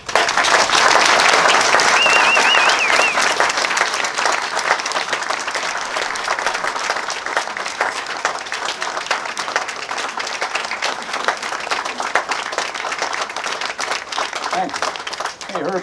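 An audience applauds loudly as Rocky Bleier is welcomed to the closing ceremony of the Traveling Vietnam Wall in Butler, Pennsylvania. The dense clapping is strongest at first, then settles into steady sustained applause with a little crowd noise.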